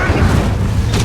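A fire spell cast in Hogwarts Legacy: a short, loud, deep boom with a rumbling fiery roar and a brief bright crackle at the tail.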